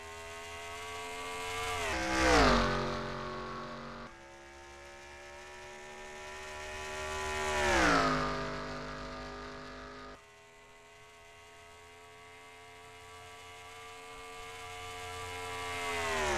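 Video-game NASCAR stock cars roll off at the start of a race at Atlanta, engines droning with two rising-and-falling passes as cars sweep by, the whine swelling then fading into a steady hum.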